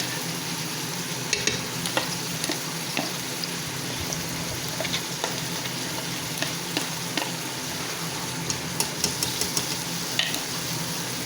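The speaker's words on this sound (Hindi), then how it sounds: "चलें जी अब हम इसको फ्राई करते हैं।" Ginger garlic paste frying with mutton in a pot for aloo gosht, a steady close sizzle with scattered sharp stirring clicks throughout and no voices.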